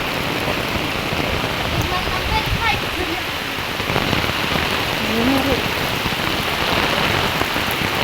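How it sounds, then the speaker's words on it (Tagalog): Heavy rain pours steadily at a hanging bridge with a dense, constant hiss, loud and close, with faint voices briefly audible underneath. "Grabe lakas ng ulan."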